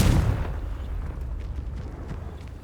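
A Confringo explosive spell blast in the video game Hogwarts Legacy goes off with a loud, low boom at the start, then a rumbling tail fades to a steady low drone. No one speaks.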